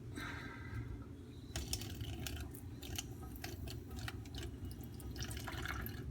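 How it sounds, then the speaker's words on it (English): A microscope slide rinsed under running water during canine vaginal cytology, a steady close trickle and splash of water with intermittent sharper drips and spatters, no talking. "And then we want to rinse it out."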